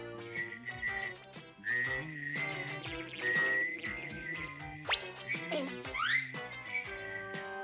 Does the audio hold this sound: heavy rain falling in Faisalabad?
no